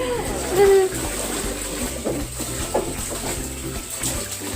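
Water pours steadily into a small inflatable mini pool, a continuous splashing wash with occasional louder splatters, while people talk nearby.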